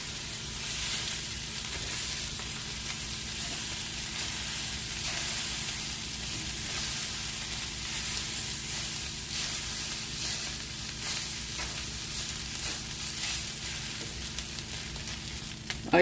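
Soy sauce sizzling over pork fried rice in a hot pan, a continuous, fairly soft frying hiss with faint crackles that carries steadily from start to finish.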